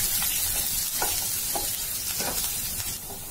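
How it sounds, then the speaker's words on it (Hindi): Garlic and green chillies fry in hot oil, a constant crisp sizzle up close, punctuated by a few soft stirring scrapes, with no speech. "अब हम गार्लिक और हरी मिर्ची इसमें डाल के पहले फ्राई कर लेते हैं।"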